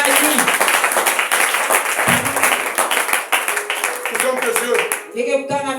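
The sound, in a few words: church congregation applauding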